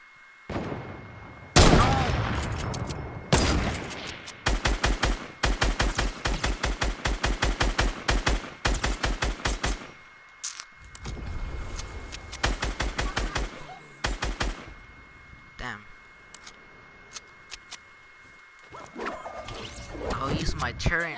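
Automated turret in Fortnite firing rapid, loud bursts of gunfire in several long volleys, broken by short pauses, with mechanical clicks in between and a steady tone underneath.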